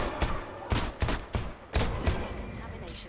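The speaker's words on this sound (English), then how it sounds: "You just gonna let him keep shooting me?" Gunfire in the game Deceit 2, a rapid run of loud close shots in uneven bursts with short gaps between them.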